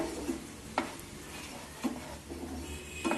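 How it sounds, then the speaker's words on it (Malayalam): Chilli powder and chicken masala being stirred in a hot pan, with a soft steady sizzle and several brief scraping strokes of the spoon against the pan, quiet and close. "എന്നിട്ട് ഇത് നല്ലതുപോലെ ഇളക്കി യോജിപ്പിച്ച് ഈ മസാലയുടെ പച്ചമണം ഒന്ന് മാറിക്കോട്ടെ."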